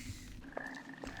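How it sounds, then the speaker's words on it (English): Frogs croak inside a cave in the video game Arx Fatalis, a couple of short croaks against a dense watery ambience of underground river and waterfall, no talking. "I hear frogs."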